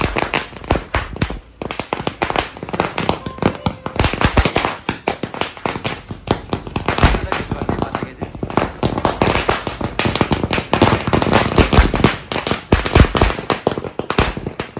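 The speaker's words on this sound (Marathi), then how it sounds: "फटाके लावते ना" Firecrackers burst in a dense, rapid string of loud sharp cracks and pops that keep going almost without pause, close by and filling the whole stretch.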